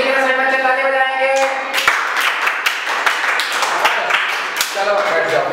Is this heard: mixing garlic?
no